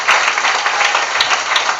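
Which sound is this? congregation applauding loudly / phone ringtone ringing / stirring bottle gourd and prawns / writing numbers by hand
congregation applauding loudly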